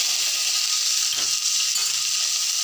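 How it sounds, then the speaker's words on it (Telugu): Green chillies frying in a pan for chutney produce a steady, dense, close hiss and sizzle that carries on unbroken, with a faint stirring scrape midway. "పచ్చిమిర్చి వేగిన తర్వాత"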